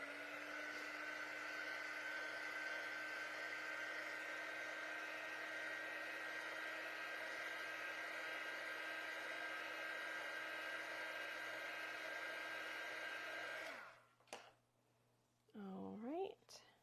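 Hair dryer blowing to dry a piece of teal paint, a steady close whirring drone that holds for about fourteen seconds before cutting off, followed by brief handling noise.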